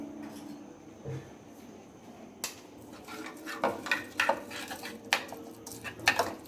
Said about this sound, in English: Let's mix, give a quick stir and mix all ingredients together.